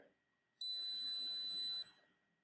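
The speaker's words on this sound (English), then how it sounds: "And you'll hear it beep again." A single steady electronic beep from a Pavlok 2 wristband, high and piercing, holds for just over a second against a quiet background.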